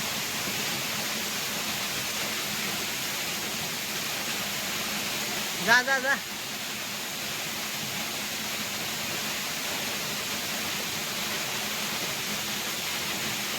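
The Dhangar waterfall near Savaroli, Badlapur pours down in a steady, dense rushing roar throughout, with a brief voice calling out partway through.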